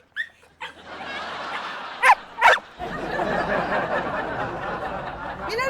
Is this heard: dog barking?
yes